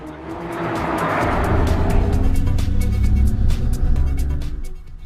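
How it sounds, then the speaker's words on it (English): A 2014 Mercedes-Benz CLA 45 AMG on a race track, its raucous engine note roaring loud and close, holding a steady, hard-working drone with a hiss of tires and air throughout. "the first thing you discover in the CLA 45 AMG is how that raucous engine note really pushes you to push the car"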